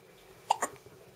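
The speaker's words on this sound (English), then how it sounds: "How are we gonna get rid of those hiccups, huh?" A baby's hiccups, two sharp little hiccups in quick succession followed by a faint third, close and clear against a quiet room.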